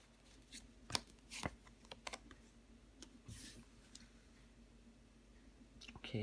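Tarot cards flipped and set down on a table in quick, soft, sparse taps and slides, close and quiet, with a voice talking faintly at times.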